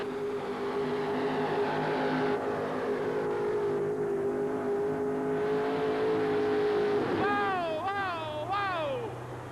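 A 1984 Chevrolet pulling truck with a 650 cubic inch engine roars steadily at a tractor pull event, a loud sustained drone that rises and warbles in pitch toward the end, with an announcer talking over it.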